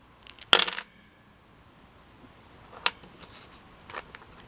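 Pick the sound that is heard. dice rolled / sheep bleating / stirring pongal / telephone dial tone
dice rolled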